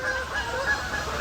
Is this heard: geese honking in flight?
yes